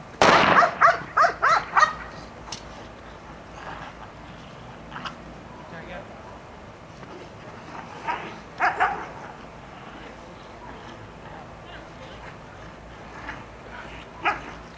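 A two-year-old female Belgian Malinois barks in a quick cluster of sharp woofs, then a few scattered barks follow over a steady outdoor background.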